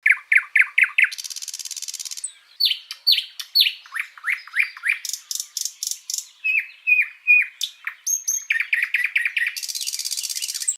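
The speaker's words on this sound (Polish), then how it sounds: "Słowik." A nightingale sings close and clear, with varied rapid phrases of sharp chirps, liquid notes and buzzing trills repeating in quick succession.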